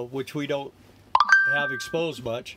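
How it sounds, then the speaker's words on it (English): A phone notification sounds inside a 1995 motorhome, a short burst of bright electronic beeps with a held tone lasting under a second, loud and close between stretches of someone talking. "That's my phone, huh?"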